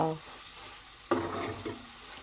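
Washed amaranth leaves (thotakura) dropped into a hot pan with spices: a sudden burst of hissing sizzle that stays steady and moderately loud, with a brief low voice at the start.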